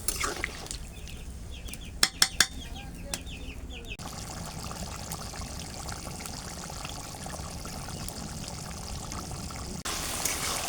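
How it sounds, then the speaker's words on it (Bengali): Water is poured into a cooking pot of fried chicken skin, potatoes and spices, making a steady, moderate rush after a few sharp clinks, with faint chicken clucks in the background early on. "এখন সেদ্ধ করার জন্য পরিমাণ মতন পানি দিয়ে দেব।"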